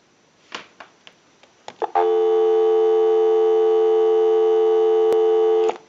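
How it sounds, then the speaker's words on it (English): Dial tone on a Western Electric 302 rotary desk telephone, a few clicks and taps of the handset followed by a loud, steady continuous tone that holds for about four seconds. "Go ahead and give you some dial tone."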